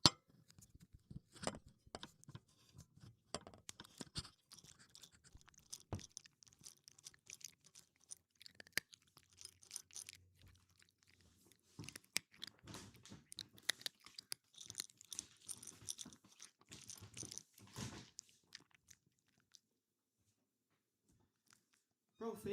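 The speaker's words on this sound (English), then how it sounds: "I'll put the mic down right next to his food so you guys can get some more ASMR crunch." A pet crunches and chews dry food with a microphone set right beside the bowl, quiet irregular bursts of crisp crunching, with speech in places.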